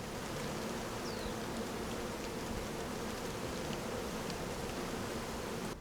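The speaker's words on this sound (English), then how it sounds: "it's blooming, and there are always so many bees, and the buzzing is so strong," Honeybees swarm over an old, large blooming ivy in a farm garden, their dense buzzing forming a steady, loud, continuous drone with no pauses, a few individual insects passing close by.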